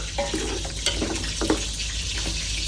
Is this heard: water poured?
yes